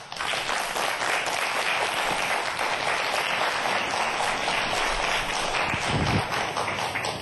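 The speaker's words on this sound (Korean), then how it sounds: "큰 박수로 맞이하도록 하겠습니다" A lecture audience at a televised science talk on stem cells applauds to welcome the professor: dense, continuous clapping at an even loud level for about seven seconds, with no one speaking.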